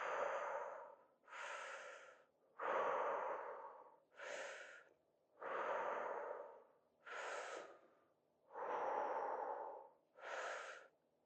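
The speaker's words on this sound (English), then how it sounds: "let's inhale through the mouth and exhale down" Slow, deep breathing during a fascial movement class, drawn in through the mouth and let out downward, eight long breaths alternating inhale and exhale in an even rhythm, close and clear with no talking.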